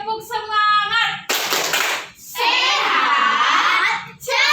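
Children in an elementary school class perform a rhythmic clapping chant, bursts of patterned hand claps alternating with sung or shouted chant syllables, close and lively.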